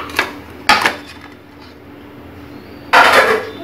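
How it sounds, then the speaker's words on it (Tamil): Ragi dosa batter with green chilli, curry leaves, curd and onion being mixed in a bowl, heard as three separate clinks and scrapes of utensil against a vessel with quiet gaps between them and no talk. "பச்சை மிளகாய், கருவேப்பிலை, தயிர், வெங்காயம் எல்லாத்தையும் போட்டு நான் மிக்ஸ் பண்ணி"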